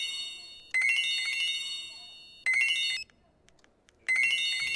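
A mobile phone ringtone goes off in a clinic setting, a bright electronic melody playing in three bursts separated by short pauses, fairly clear and close with no talk.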